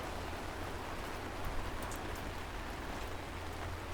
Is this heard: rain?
yes